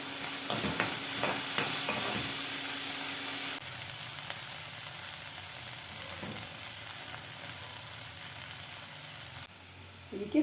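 Cluster beans frying in oil in a pan, with a steady sizzle and stirring scrapes that ease into a quieter, even crackle partway through.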